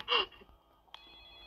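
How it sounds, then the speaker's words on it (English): In the Roblox game Specter, a phone gives a short, bright ring burst followed by a fainter tone, quiet and a little distant, with no talk over it. "I hear a phone ringing."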